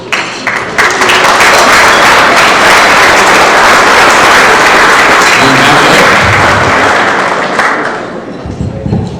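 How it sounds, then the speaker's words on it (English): Sustained applause from a large crowd at a hall of fame induction banquet, loud and continuous for several seconds, tapering off near the end. "Big round of applause for our inductees."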